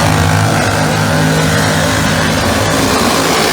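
Pro Mod drag race cars roar at full throttle toward the finish line, a loud, steady engine blare that fills the whole stretch without letup.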